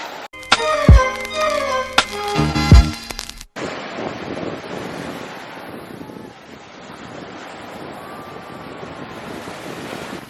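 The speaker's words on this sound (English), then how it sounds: "I got in the beach water a little bit." Surf breaking on a rocky beach in Puerto Rico with wind buffeting the microphone, a steady broadband wash after a brief burst of music at the start.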